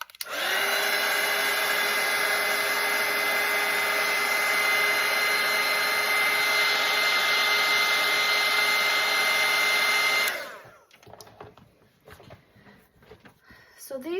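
A hair dryer roars steadily and loudly with a high whine while drying a watercolor daffodil painting, running about ten seconds before switching off abruptly into quiet room sound with faint handling noises.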